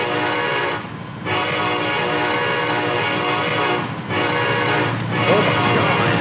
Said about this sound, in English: Right here at this crossing, we got some train coming.